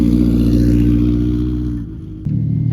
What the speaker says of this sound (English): There goes that Ford Fiesta rally car.